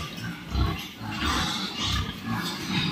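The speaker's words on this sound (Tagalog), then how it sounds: "Naghanap tayong baboy." Pigs grunting and snorting at close range on a Philippine backyard farm, a continuous low rumble of overlapping grunts with a few louder bursts, over a busy background of other animal noise.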